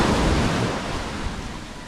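Waves wash steadily onto a seashore, a dense broadband roar rolling under wind with no voices.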